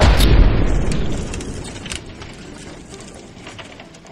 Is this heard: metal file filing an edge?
no